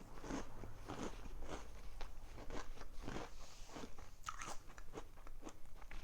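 Someone eats a spoonful of Frosted Flakes, Cap'n Crunch style cereal from a cereal cup with milk, and the cereal is chewed up close. A series of crisp, irregular crunches lasts several seconds, loud and near, with no talk.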